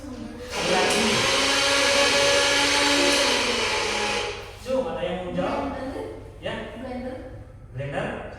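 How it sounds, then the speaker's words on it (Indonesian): A blender runs with a loud, steady high whirring roar for about four seconds, then cuts off, followed by people talking. "Ternyata suara apa? Blender."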